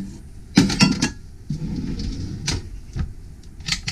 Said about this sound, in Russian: Вот посуда, про которую я говорил